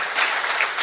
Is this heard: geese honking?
no